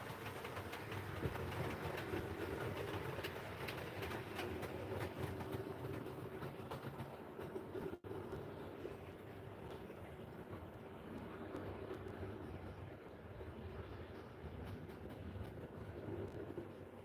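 A model railway train runs along its track in a steady, continuous rumble with faint rhythmic clatter and no voices.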